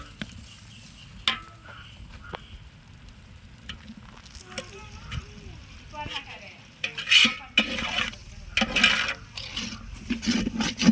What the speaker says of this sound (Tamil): தக்காளி வந்து வதங்குற வரைக்கும் நல்லா வந்து வெயிட் பண்ணி கிளறி விட்டுட்டே இருங்க